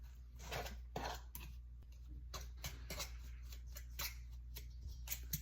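Two forks working butter into a crumbly baking mixture in a bowl, a steady patter of soft scraping and tapping strokes at close range, faint and rhythmic.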